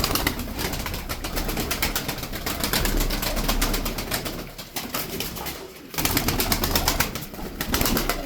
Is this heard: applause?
no